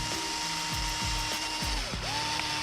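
A power driver tightens bolts on an RC car bell crank in short repeated bursts, each whine winding down as the bolt seats, close and fairly loud.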